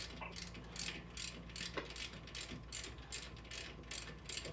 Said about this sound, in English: We're probably gonna have to use a socket on it.